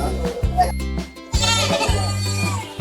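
Goats at a livestock market bleating loudly and close, several long wavering calls one after another, with people talking and calling out around them.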